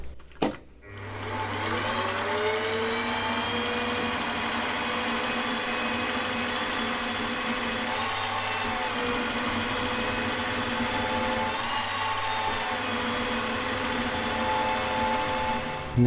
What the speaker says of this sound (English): this plunge cutting seems to be working well